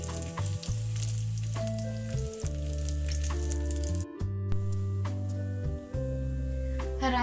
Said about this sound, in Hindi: इसी तरह से हम बाकी बॉल्स भी फ्राई कर लेंगे